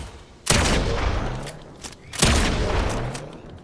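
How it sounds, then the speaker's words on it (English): Two heavy blasts from a Havoc pump shotgun in a video game, spaced under two seconds apart, each a loud sharp boom trailing into a noisy rumbling decay. "it says Havoc pump shotgun, so it's a pump"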